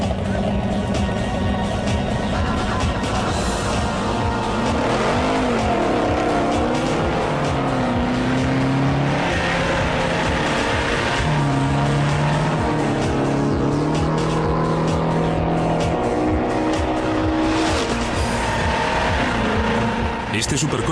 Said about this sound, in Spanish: El Ford Boss, diseñado en 1993, tiene que ser lo último en este tipo de automóviles y está pensado para acelerar de 0 a 100